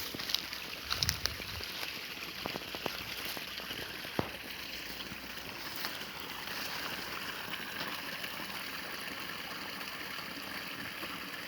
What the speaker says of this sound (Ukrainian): Ось і водоспад.